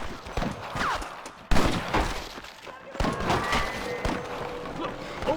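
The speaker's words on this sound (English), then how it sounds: "I can hear more gunshots." Gunfire in Red Dead Redemption rings out as scattered shots and short volleys, some sharp and near, others echoing farther off, with ongoing movement noise and a voice in the background.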